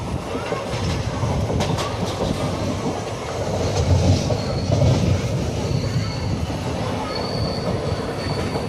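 The Sapthagiri Express on the Tirupati–Chennai run, a steady loud rumble of rolling railcars with rhythmic clickety-clack and faint wheel squeal, continuing for the whole stretch beneath cabin noise and some indistinct voices.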